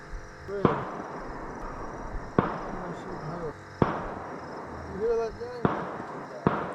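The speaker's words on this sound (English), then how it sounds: "We actually heard gunshots." Sharp, distant cracks of gunshots, about six spaced irregularly, heard beneath an ongoing conversation.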